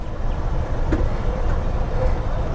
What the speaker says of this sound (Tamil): அங்கிட்டு ஒரு ட்ரெயினும் போய்கிட்டே இருக்குது.